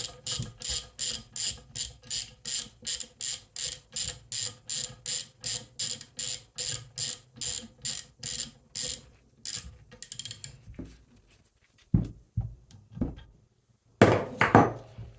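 A ratchet wrench snugs down bolts with a rapid, even train of about twenty-five sharp clicking strokes. A few scattered clicks and clunks follow after a short pause.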